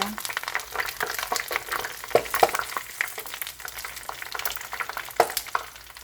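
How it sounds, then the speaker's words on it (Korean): Oil crackles and sizzles steadily as pollock skin deep-fries, with scattered sharp pops and spits throughout. "원래는 다듬어야 되는데 이렇게 튀기고 있습니다"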